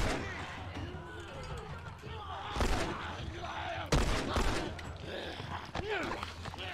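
Gunfire in the PS3 video game The Last of Us, with a few sharp shots rising out of a busy game soundscape while someone talks over it.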